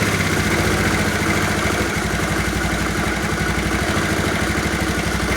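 A motorcycle engine runs at a steady idle, loud and close, with a continuous low rumble and even mechanical throb and no talking over it.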